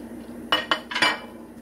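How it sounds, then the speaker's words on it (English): Coconut and sugar being stirred together in a bowl, making a few sharp utensil clinks and scrapes against the bowl in quick succession, close and fairly clear with no talk. "Give that a good mix."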